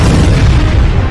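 Explosion at a Russian weapons depot in Krasnodar, a very loud, deep, sustained rumbling boom that fills the whole moment with heavy low-end roar.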